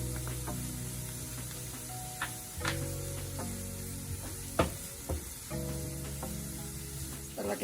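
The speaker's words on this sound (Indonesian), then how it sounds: "Kita masukin bawang putih." Garlic sizzles in a hot pan as the base for beef rendang, a steady frying hiss with a few sharp clicks and stirring scrapes, at moderate level with no talk.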